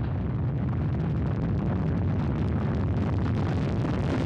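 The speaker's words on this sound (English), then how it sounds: "Engines at maximum thrust, liftoff." The Soyuz MS-12 rocket's engines roar at liftoff with a dense, continuous, crackling rumble that stays loud and unbroken throughout.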